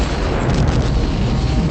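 A loud explosion sound effect from the Star Trek II: The Wrath of Khan film, a dense continuous roaring blast filling the whole clip with rumbling low end and no pause.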